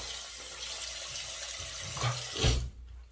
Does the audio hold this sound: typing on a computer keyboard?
no